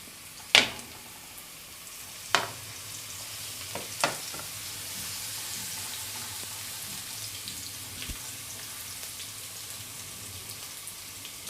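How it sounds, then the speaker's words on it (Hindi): Finely chopped garlic fries in two to three tablespoons of oil for chicken chow mein, giving a faint, steady sizzle after a few sharp clinks at the start; no voices are heard. "आप देख रहे हैं लहसुन फ्राई हो रहा है।"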